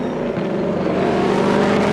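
A Ford Mustang Mach-E electric car driving fast makes a loud, continuous broadband road and motion noise with a faint tonal whine, steady and close for a couple of seconds, with no voices.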